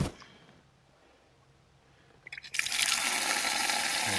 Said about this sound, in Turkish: Suyumuz akıyormuş gibi.